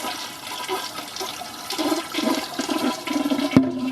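An old toilet with an old-style ball cock flushes in an 80s house in North Dallas, a close rushing swirl of water lasting a few seconds with a clunk near the end.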